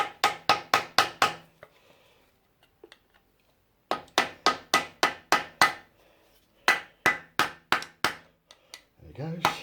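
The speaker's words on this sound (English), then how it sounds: "a nice big locking tab, which I'm just going to bend back the right way. Using my very best wood chisel" A wood chisel is struck with a hammer to bend back the locking tab on a 1990 Range Rover hub nut, sharp close metallic blows in quick rhythmic clusters of five or six, separated by short quiet pauses.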